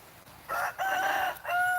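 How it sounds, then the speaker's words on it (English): Backyard garden chickens making drawn-out, crowing-like calls, three loud close bursts in quick succession over quiet background. "yeah, and there's the chickens"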